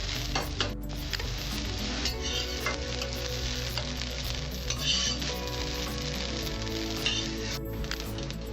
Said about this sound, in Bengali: আমার ডিমের ভুজিয়াটা হচ্ছে